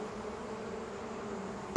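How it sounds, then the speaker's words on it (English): Bees buzz around a steam engine's warm boiler in a steady, close drone that holds evenly throughout, ending in a sudden louder burst. "so they buzzed around the fireman hoping he'd mend their hive"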